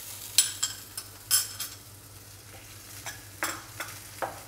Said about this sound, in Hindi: अब उबले हुए आलू डालकर इसे हम पका लेंगे।